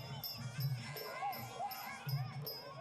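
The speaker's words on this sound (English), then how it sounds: "The crowd go wild." Spectators at a Muay Thai fight in Lumpinee stadium shout and cheer in rising bursts, a dense crowd roar with the fight commentator's voice mixed underneath.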